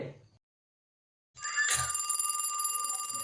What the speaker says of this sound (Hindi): अरे देखो तो ये दूध वाली का फोन आ रहा है